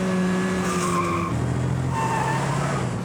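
A car accelerates hard with the pedal floored during a chase, its engine roaring loud and close as tires squeal and skid over the full stretch, with no voices.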